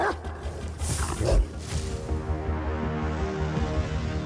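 Guard dogs around a walled fort in a Hindi action film bark and whimper, a loud burst of barking followed by continuous growling and yelping close by.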